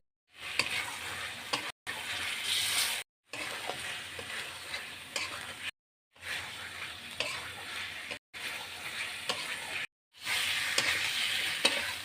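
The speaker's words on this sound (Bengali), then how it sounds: "কাঁকরোলগুলো দিয়ে আমি আবারও কষিয়ে নেব" Spiny gourd (kakrol) sizzles as it is sautéed in mustard paste with coconut in a pan, stirred in short bursts of steady frying separated by brief silent cuts, close and with no voices.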